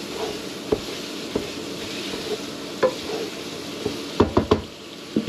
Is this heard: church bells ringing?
no